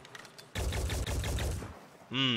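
A burst of rapid gunfire from a shot in the turn-based strategy game Phoenix Point, loud and dense for about a second and a half after a quiet start, ending in a short ringing electronic tone.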